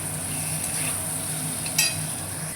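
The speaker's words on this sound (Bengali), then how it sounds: "একটু তেল দিয়ে ভাজলাম, এই তেলটা পুরোটাই বেগুনটা টেনে নেবে।" Eggplant slices frying in a little oil in a pan, a steady close sizzle with a short clink of a utensil near the end.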